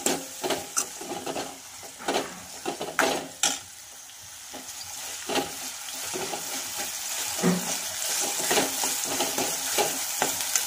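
Finely chopped large tomato frying in a pan for dal shevga, a steady close sizzle with repeated sharp scraping and stirring clicks from a spoon, louder bursts early then a continuous hiss.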